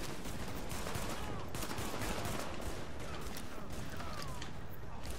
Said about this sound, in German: zwei Schüsse ist mit der Schrotflinte wirklich nicht schlecht